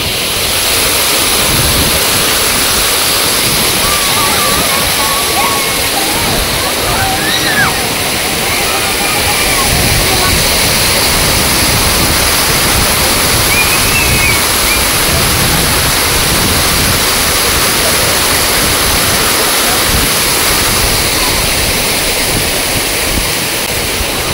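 Water pours continuously over the waterfall at Thaiyur lake near Chennai, a loud, dense rushing roar with faint voices in the background.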